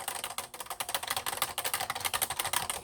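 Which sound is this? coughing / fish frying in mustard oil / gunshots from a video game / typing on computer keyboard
typing on computer keyboard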